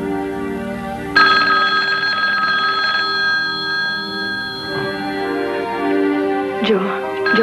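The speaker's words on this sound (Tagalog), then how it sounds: "telepono" A telephone rings in a steady electronic trill that starts about a second in and carries on close by. Faint background voices sit underneath.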